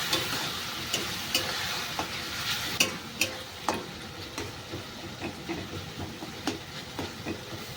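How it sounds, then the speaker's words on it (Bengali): Spices sizzling in a pan with a little water as they are fried down, a constant hiss broken by regular sharp clacks of a spoon stirring against the pan, close and steady. "আমি অল্প করে একটু জল দিয়ে দেবো মশলাগুলোকে ভালো করে কষিয়ে নেবো"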